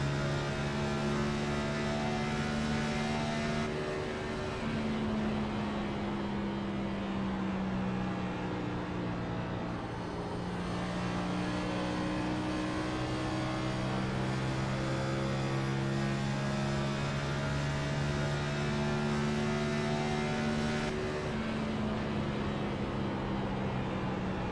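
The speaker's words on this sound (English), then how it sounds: "I want to see what his throttle input sounds like here." A race car engine held at steady throttle in an oval racing sim at Homestead Miami Speedway, a sustained buzzing drone whose pitch sags and recovers a couple of times, with no voices over it.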